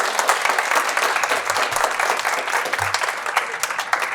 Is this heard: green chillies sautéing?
no